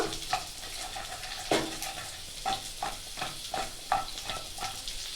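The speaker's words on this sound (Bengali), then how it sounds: "তেল আমার গরম হয়ে গিয়েছে, এখন আলুগুলো দিয়ে দেব" Potatoes frying in hot mustard oil in a kadai: a steady sizzle with a few soft stirring scrapes and clinks every second or so, moderately close and without voices.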